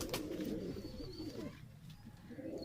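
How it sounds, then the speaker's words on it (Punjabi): A Makoya pigeon coos on a rooftop loft, with soft, low rolling coos repeating close by over faint background noise. "ਪਸੰਦੀਦਾ ਕਬੂਤਰ ਹੈ ਮਕੋਇਆ"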